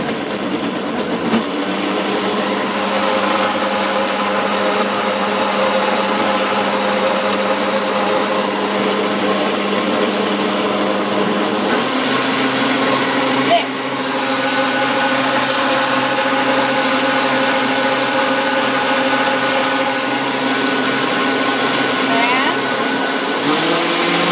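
A KitchenAid blender runs steadily while blending a green smoothie, a loud constant motor whine with a grinding churn. Partway through the pitch drops and shifts as the speed changes.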